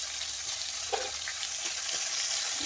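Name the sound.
frying hilsa fish head and shrimp in oil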